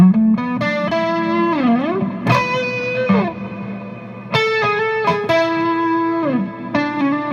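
An electric guitar lead runs through a DOD 250 overdrive drenched in heavy reverb, playing sustained distorted notes with pitch bends and slides, loud and alone with long washy tails between phrases.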